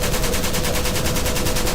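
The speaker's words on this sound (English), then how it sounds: "the roar of the M60 machine gun, which could shoot up to 650 rounds a minute" An M60 machine gun fires in one loud, unbroken burst of rapid, evenly spaced shots, harsh and close, with no talking.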